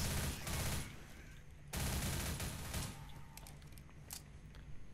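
Gunfire from the Left 4 Dead video game rattles in two long, dense automatic bursts with scattered single shots and clicks between them, loud and continuous across the stretch.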